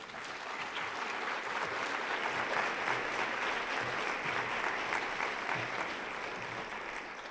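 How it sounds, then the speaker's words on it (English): An audience at a youth citizenship awards evening applauds a keynote speaker. The steady, dense clapping is fairly close and continues throughout, with no voices on top. "let's give him another round of applause for taking time out of his day"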